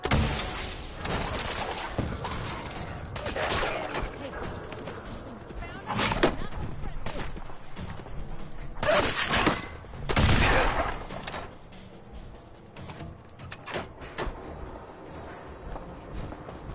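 Missile launcher blasts and other weapon fire boom in Fallout 4, with several loud bursts spread irregularly through a long stretch of combat noise, with someone talking intermittently.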